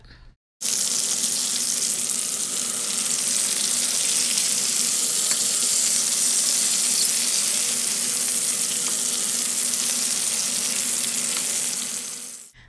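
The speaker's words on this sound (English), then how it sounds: "while your short ribs are searing" Beef short ribs searing in a hot pan, a loud, dense, continuous sizzle with a hissing, water-like texture that holds steady for about twelve seconds before cutting off, with no talking.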